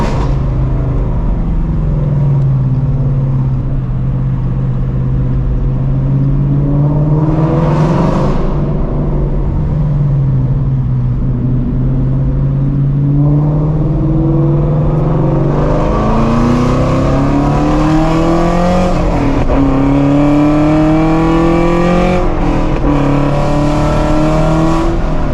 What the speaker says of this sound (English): Hear my clutch slipping slightly.